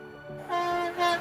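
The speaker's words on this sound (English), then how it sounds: "There's a freight train coming." A passing freight train sounds a tonal horn in two short blasts, loud and steady, heard alone.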